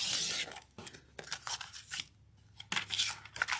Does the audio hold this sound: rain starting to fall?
no